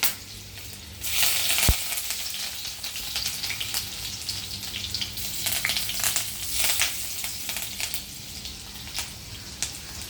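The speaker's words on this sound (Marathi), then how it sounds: "कढीपत्ता आणि मिरची एकत्रच टाकतोय फारंगार तर त्यामुळे घाबरायला होतं थोडंसं लांब ठेवूनच करायचं आहे" Curry leaves and green chillies dropped into hot oil for kanda poha burst into loud sputtering with a sharp crack near the start, then settle into a dense, steady crackle and sizzle close by.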